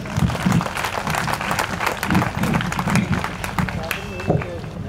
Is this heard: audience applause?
yes